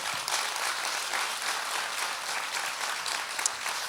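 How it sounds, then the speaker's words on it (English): Steady, dense applause from an audience at a parenting talk, filling the room evenly and loudly with no voices over it. "So give them a round of applause"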